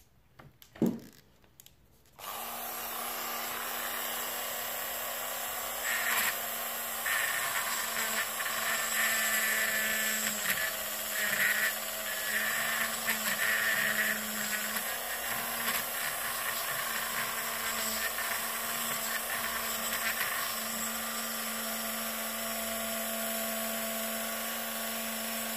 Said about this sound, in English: That way, the drill would not slip off here, and when we do the hole.